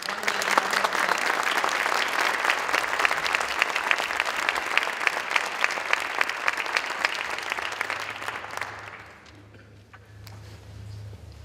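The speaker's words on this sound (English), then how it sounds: "could you please give all these public servants a round of applause?" An audience applauds public servants at a Saline community recognition event, with a sustained burst of dense clapping that fades out near the end, leaving a low hum.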